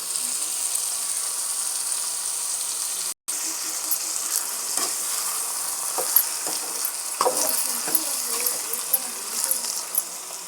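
Prawns coated in turmeric and salt sizzle in a pan with fried onions, a moderate steady frying hiss with scattered crackles and a few spoon scrapes, briefly cut off early on.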